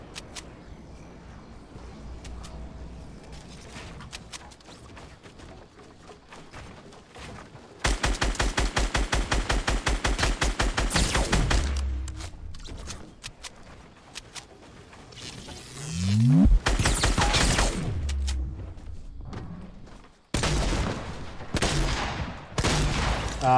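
Gunfire in the Fortnite video game: bursts of rapid shots, some sustained like machine-gun fire, interspersed with single loud reports and a rising whoosh, loud and close with brief gaps between volleys.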